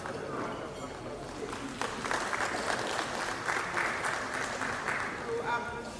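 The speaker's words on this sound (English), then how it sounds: "Please, let's give Mr. Aborio another round of applause." Conference audience applauding, a moderate, fairly distant wash of clapping that holds steady for several seconds, with faint voices mixed in.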